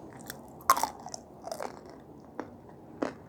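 Close-up bites and chewing of nzu and ulo, edible clay chalk: several sharp, dry crunches at irregular intervals, the loudest at the start, with quiet pauses between them.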